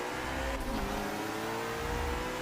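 Ferrari race car engine with a 3.8 litre engine in a Forza racing game, a steady high-pitched revving whine held throughout with a slight pitch shift partway.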